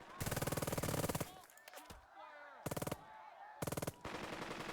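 Video game gunfire from a World War II tactical battle: loud bursts of rapid machine-gun fire that stop and restart, with whistling and lighter battlefield noise in the gaps.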